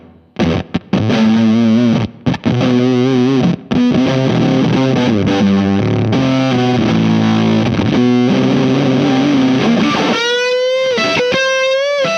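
Electric guitar through a HangmanFX Tyrannosaur Mega Driver distortion pedal with the gate turned fully up, thick gated fuzz riffs with abrupt cutoffs between phrases, ending in sputtering choked notes; loud and close with no voice.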